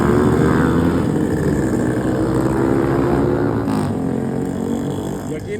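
Many motorbikes and scooters riding past together at night on a Malaysian street, a loud steady engine drone with overlapping revving that fades slightly toward the end.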